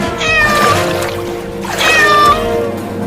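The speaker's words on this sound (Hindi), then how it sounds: "वहाँ देखो, एक बिल्ली पानी में डूब रही है" A cat meows in flood water, giving two drawn-out, fairly loud cries about a second and a half apart over a steady watery background.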